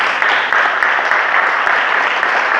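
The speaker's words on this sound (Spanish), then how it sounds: "Dale un fuerte aplauso." Loud, sustained applause from a church congregation fills the room at a sermon, a dense, even wash of clapping at high volume from start to finish, with no voices over it.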